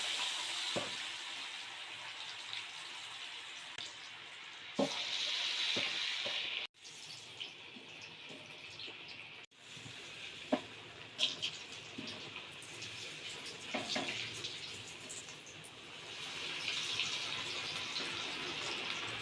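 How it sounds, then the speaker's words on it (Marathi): Fasting-style vadas fry in hot oil with a soft, steady sizzling hiss, quiet and close, broken by a few light clatters and brief pauses. "आता आपण वडे तळून घेणार आहोत"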